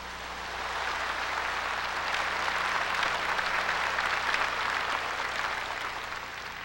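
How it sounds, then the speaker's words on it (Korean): Audience applause greets a young speaker at a large Won Buddhist dharma assembly in Seoul, swelling gradually into dense, steady clapping, then easing off slightly toward the end. "박수로 환영해 주십시오."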